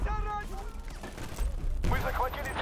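Gunfire coming through a wall in Battlefield: Bad Company 2, rapid bursts of shots crackling under game noise, with a voice talking over part of it.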